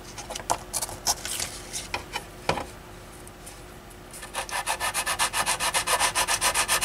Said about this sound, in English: Lightly sand that glue seam out